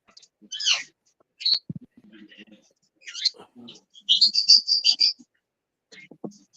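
Several pet birds chirp and squawk indoors in short bursts, with a person's voice mixed in between the calls, close by and fairly loud.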